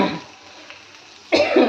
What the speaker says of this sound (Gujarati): બધાને ઉધરસ થઈ ગઈ સર્વ